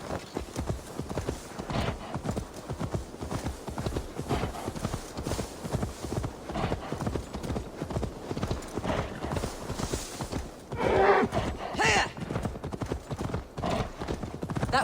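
Horse hooves clip-clop at a steady walking rhythm in Assassin's Creed Valhalla, moderately close and fairly quiet, with a brief snort or whinny partway through.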